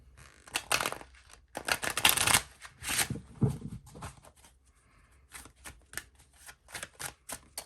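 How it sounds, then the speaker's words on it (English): Tarot cards being riffle shuffled by hand, several quick close fluttering bursts of snapping card edges separated by brief pauses, with no talk. "I'm gonna give it one more riffle and then I'll draw a few cards."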